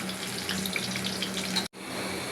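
Raw jackfruit pakora fries in hot oil with a steady, close hiss and crackle. The sizzle drops out for a moment near the end and then resumes.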